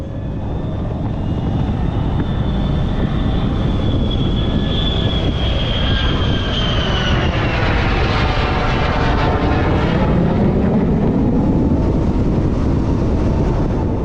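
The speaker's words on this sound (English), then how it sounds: "the demo route had us riding by Marine Corps Air Station Miramar, where they were flying the F-35" An F-35 fighter jet flies over Marine Corps Air Station Miramar, a loud roaring pass that swells and sweeps in pitch as it goes by, heard continuously and alone for about fourteen seconds.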